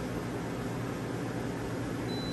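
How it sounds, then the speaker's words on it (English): A machine spindle spins on a balancing machine with a trial weight attached, producing a faint, even whir with broadband hiss that holds steady throughout. "Spindle is running"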